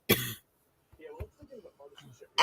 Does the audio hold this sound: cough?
yes